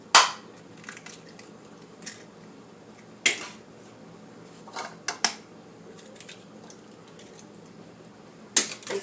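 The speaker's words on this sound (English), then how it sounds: "Next we're going to crack 2 eggs in this bowl." Two eggs cracked into a bowl: sharp, isolated cracks and taps at irregular intervals, several distinct clicks of shell against the rim, close and fairly loud over a quiet background, no talking.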